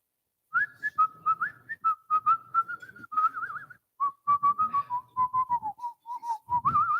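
A chef whistles a tune live in a radio studio, a clear, close melodic line of bright sustained and quick staccato notes running for several seconds with short pauses between phrases, no talking over it.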